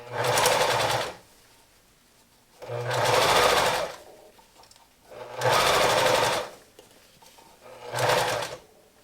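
A sewing machine stitches a ruffled neckroll pillow in four separate bursts of steady stitching, each a couple of seconds long, with quiet pauses between.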